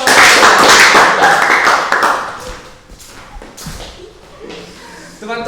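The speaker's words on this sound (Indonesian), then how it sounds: "terima kasih tepuk tangan dulu untuk pasangan" A talk show audience claps for a pair of guests, a dense burst of applause that is loudest at the start and thins out over a few seconds while voices carry on underneath.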